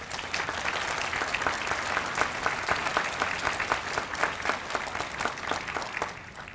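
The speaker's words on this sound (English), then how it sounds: "I would like to give all of our distinguished guests a round of applause." A hall audience at a medical school white coat ceremony applauds its distinguished guests, a dense sustained roar of clapping that stays even throughout and fades slightly at the end.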